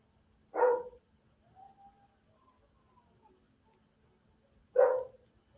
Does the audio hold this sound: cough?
no